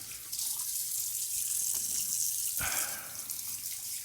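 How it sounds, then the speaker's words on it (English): A razor is rinsed under a running tap after a wet shave, a steady close hiss of flowing water with a brief splash or clatter near the middle. "Let's give this a rinse and let's go on with our post-shave"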